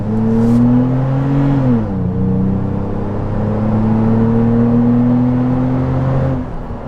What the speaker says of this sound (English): I'm going to do a full open throttle here right now.